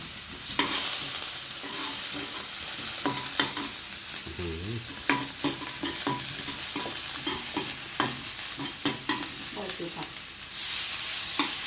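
Fried shallots stir-fried in hot oil in a wok for Korat-style noodles, a loud continuous sizzle with frequent scraping and clattering of a spatula against the pan, close and without speech.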